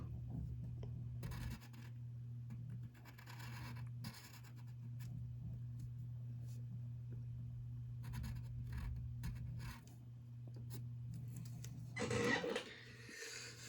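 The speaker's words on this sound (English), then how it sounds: "we can take the side of our pencil and fill in his mouth a bit" Pencil drawing Mushu from Disney's Mulan, scratching and rubbing steadily across paper in close, continuous strokes with a few short gaps, then a brief louder scrape near the end, over a low steady hum.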